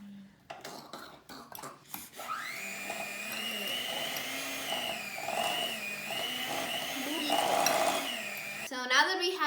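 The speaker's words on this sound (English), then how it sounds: "So now we're gonna mash our bananas." Bananas for banana bread are mashed with a whirring electric mixer or blender that runs steadily for several seconds after a few short clicks and knocks, close and fairly loud.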